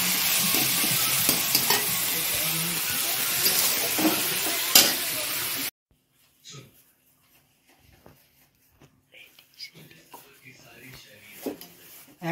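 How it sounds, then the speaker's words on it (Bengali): Boiled mutton with fried potatoes sizzles in a pan, with loud frying and scraping stir strokes at first, then quieter intermittent clinks and faint sizzling as people talk nearby. "আমার মেয়ে মাংস রান্না করছে"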